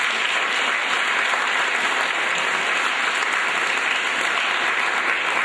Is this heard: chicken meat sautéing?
no